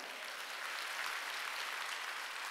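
A church congregation at a Korean Wednesday worship service claps hands together in a steady, dense burst of applause that continues throughout, heard from a moderate distance.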